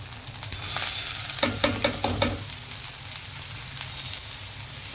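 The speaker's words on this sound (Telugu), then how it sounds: "క్యారెట్ ముక్కలు వేసేయడమే." Carrot pieces frying in hot oil in a pan, a steady close sizzle with a short burst of scraping stir strokes partway through, alone without talk.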